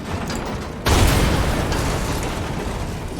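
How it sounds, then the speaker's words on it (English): A chainsaw tank's cannon fires in Resident Evil Village, a sudden loud boom close up that cuts in after a stretch of steady game rumble, then settles into a dense, sustained roar. "Hold L2 to ready cannon and then fire."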